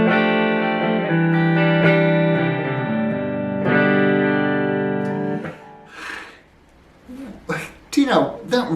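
A Jackson RR4 Concept electric guitar rings out through effects in sustained, layered chords that ring for several seconds and then decay. A person speaks over the fading tail.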